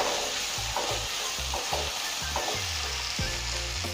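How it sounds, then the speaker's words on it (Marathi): Spices and ground coriander sizzle as they are stirred in a hot frying pan for Maharashtrian masale bhat, with a steady fry hiss and a series of rhythmic spoon scrapes, close and without talk. "हे थोडंसं मिक्स करून घेऊ."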